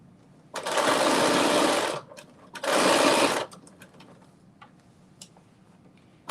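A sewing machine stitches a denim knit dress in two long, steady runs of about a second and a half each, with a short pause between and quiet handling afterward.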